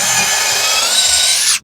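Keelat KCD01 cordless drill running at speed 2, a loud, close, high-pitched steady whine for about one and a half seconds before cutting off sharply.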